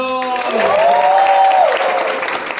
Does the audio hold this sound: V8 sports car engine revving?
no